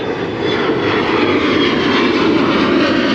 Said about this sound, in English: More airplanes.